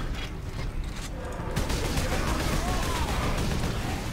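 Gunfire in the Warhammer 40K: Space Marine video game, a rough mechanical rattle and bursts of shots that grow louder and steadier after the first second and a half, heard under a background of game noise.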